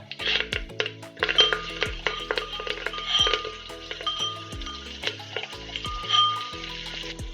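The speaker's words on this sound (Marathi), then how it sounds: "तेल तापले आपण त्याच्यामध्ये कढीपत्ता टाकून देऊ" Curry leaves and pounded spices sizzle and crackle in hot oil in a pressure cooker for moong dal khichdi, with steady frying hiss, spoon stirs and metallic clinks close up.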